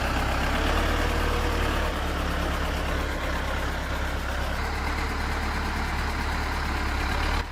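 A T40 agricultural tractor from the Vladimir tractor plant, with an air-cooled four-stroke four-cylinder diesel engine, runs close by in a loud, steady idle with a gruff low rumble and no voices.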